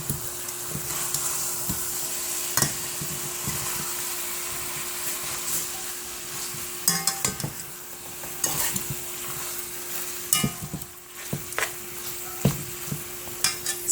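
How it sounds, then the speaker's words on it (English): Food frying in coconut oil in a home kitchen for Jamaican curry chicken, a steady hiss with scattered crackles and pops and occasional utensil scrapes, close and moderately loud. "it's cooking down in the coconut oil right now"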